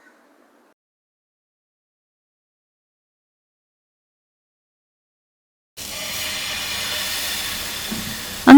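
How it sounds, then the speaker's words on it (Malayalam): A kitchen pressure cooker lets off steam, a steady loud hiss that starts abruptly after a long silence and continues to the end, with a sharp burst at the very close. "കുക്കറിലെ പ്രഷർ ഫുള്ള് റിലീസ് ആയി കിട്ടിയിട്ടുണ്ട്"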